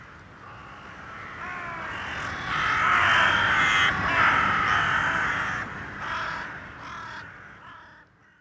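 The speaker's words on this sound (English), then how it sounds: "a small flock of crows that took off, cawing, towards the east." Several crows caw together in a loud, overlapping chorus that swells in the middle and then fades as the birds move off.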